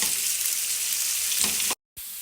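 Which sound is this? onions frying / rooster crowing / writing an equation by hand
onions frying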